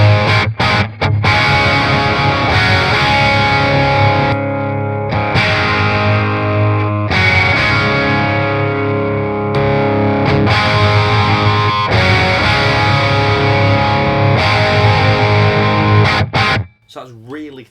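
An electric guitar played through a D.Effects DE01 Iceberg hand-built overdrive pedal with gain and output raised gives thick, sustained distorted chords and riffs, loud and close, fading out at the end.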